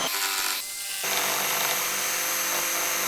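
A drill-powered DIY lathe spins wood while chisels cut into it, giving a steady loud whir with a rough scraping grind that builds after a brief quieter start.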